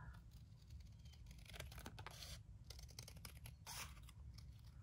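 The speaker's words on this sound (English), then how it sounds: "I'm just gonna go ahead and cut it." Scissors snipping through paper in a craft idea book, a run of quiet close cuts and crisp slices with faint paper rustle, no talking.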